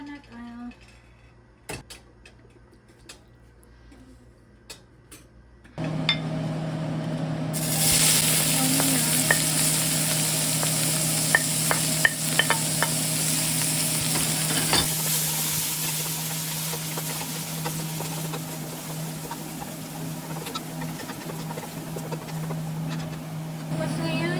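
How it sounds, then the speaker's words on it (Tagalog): Vegetables for lumpia sautéing in coconut oil in a pan: quiet clinks at first, then a loud, steady sizzle starts suddenly and holds, with stirring scrapes and utensil taps on top. "Igisa tayo ngayon ng mga sangkap ng mga gulay para sa lumpia."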